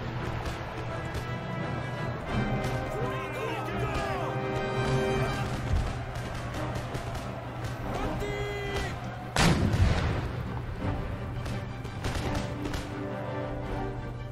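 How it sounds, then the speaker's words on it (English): Musket volleys fired by rank crackle across an Empire: Total War battlefield, a dense continuous roar of shots with one louder crashing burst near the end and faint voices underneath. "Nice fire by rank, dudes"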